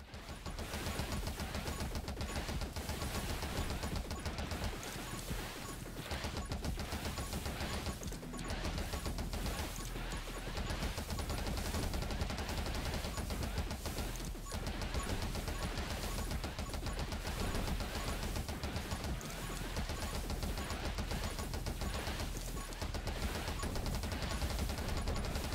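Rapid gunfire from the video game 20 Minutes Till Dawn, a dense, continuous stream of crackling shots and smashing impacts that runs without a break at steady volume.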